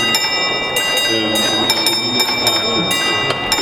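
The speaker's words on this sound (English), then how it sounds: "I hear that there's a bell code going on, and that's closing the signal boxes" A bell rings out a series of sharp strokes in an irregular coded pattern, fairly close, with a steady tonal hum and faint murmuring underneath.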